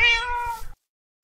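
A cat in the video game Minecraft lets out one clear, loud meow, close and alone, then silence.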